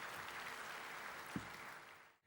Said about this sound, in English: A warm round of applause to our recipients.